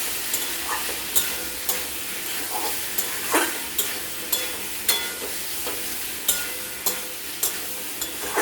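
Fish head curry with pumpkin and potato being sautéd in a pan: a continuous sizzle and frying hiss, broken by regular scraping strokes of a spoon stirring roughly once a second.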